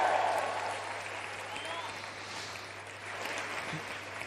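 An audience at an Emmanuel Macron election-night speech claps steadily, a dense wash of applause heard from within the crowd that holds at an even level for several seconds, with murmuring mixed in.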